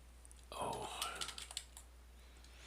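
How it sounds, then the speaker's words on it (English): Typing on a computer keyboard at a desk, a quick run of key clicks and taps, close and fairly quiet, with a low steady hum underneath. "I'm going to type in Edward Jones."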